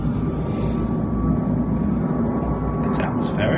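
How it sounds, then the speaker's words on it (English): A fixed-wing airplane passes overhead on a flight path above a home, a steady low broadband rumble that holds throughout, with people talking over it. "Yes, another plane."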